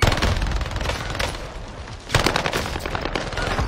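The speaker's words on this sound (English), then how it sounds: "Grenade out! Sending a frag out!" In the Warzone video game, a thrown frag grenade and rapid gunfire produce dense, loud bursts of automatic shots that dip briefly before a heavy blast and renewed firing crash in, with no talk over them.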